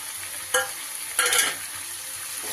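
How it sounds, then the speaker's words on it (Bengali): Potatoes and spices are stirred in a hot pan for a banana flower and coconut curry, a soft steady sizzle broken by two sharp scraping clatters of the spoon against the pan. "আরো একটু সময় এইভাবে নাড়াচাড়া করে নিয়ে"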